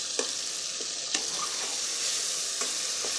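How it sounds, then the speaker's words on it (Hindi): Spices and tomato frying in a pot for chickpea pulao while a spoon scrapes and stirs, giving a steady sizzle broken by a few sharp metallic scrapes. "चम्मच को साथ साथ ज़रूर हिलाते रहें ताकि मसाला हमारा नीचे न लगे"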